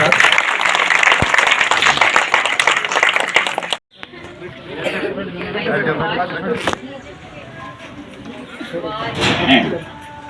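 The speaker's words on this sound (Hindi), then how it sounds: "और तालियां बजाते रहो साथ के साथ।" Dense, loud applause and clapping from a crowd at a political rally in Bapoda, steady for several seconds before breaking off, then crowd chatter and scattered noise with people talking.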